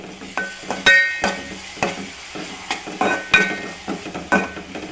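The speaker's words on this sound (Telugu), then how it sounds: "కొంచెం పసుపు వేసుకోవాలండి కొంచెం అల్లం వెల్లుల్లి పేస్ట్ కూడా వేసుకోవాలి వేసుకొని బాగా కలుపుకోవాలండి" Mutton curry being stirred in a pan with turmeric and ginger garlic paste, a spoon scraping and clacking in an irregular rhythm of sharp knocks over a soft frying sizzle, close and fairly loud, with no talk.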